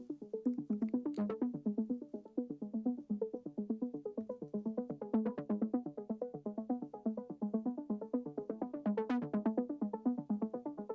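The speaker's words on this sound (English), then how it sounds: "And here I added this kind of ARP, which sounds like this." A synth arpeggio melody plays alone, a fast, steady cycling pattern of bright plucky notes at moderate volume, continuing evenly throughout.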